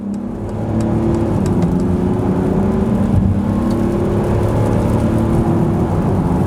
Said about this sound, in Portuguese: vamos lá, ó, 60 por hora, acelerando tudo